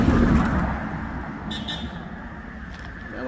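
A car passes by on a road in a residential area of Mandeville, Manchester, as a loud whoosh that fades, followed by brief high clicks or a light toot in steady road noise.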